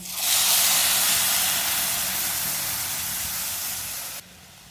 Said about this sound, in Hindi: अब इसमें 4 प्याली दूध डाल लेंगे।